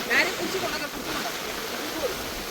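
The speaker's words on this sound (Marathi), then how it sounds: "पाण्याचा आवाज बघताय पाण्याचा आवाज कडक" Rushing water during heavy rain, a loud steady broadband rush running throughout while voices speak over it.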